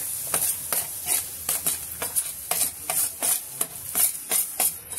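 Grated coconut and jaggery for ukadiche modak filling, flavoured with cardamom, get stirred in a hot pan over a gas flame. A spoon scrapes in a regular rhythm of about a dozen strokes over a soft sizzle.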